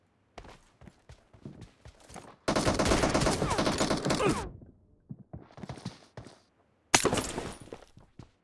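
Gunfire from an M24 and a Scalar in a PUBG team deathmatch: scattered single shots, then a long dense burst of rapid fire, more spaced shots and a final sharp loud volley, fairly close with no talk.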